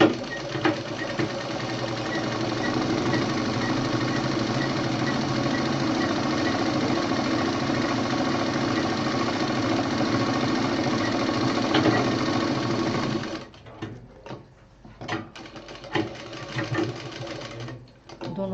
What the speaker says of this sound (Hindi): अब इसको दोनों किनारों पर से सिली जाएगी।